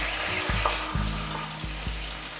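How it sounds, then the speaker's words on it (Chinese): Soy sauce, vegetarian oyster sauce and chili bean paste with a little water are stir-fried in a wok, giving a close, steady sizzle broken by a few quick scraping stirs of the spatula, with no talking. "快速翻炒。 翻炒的時候就可以轉大火。"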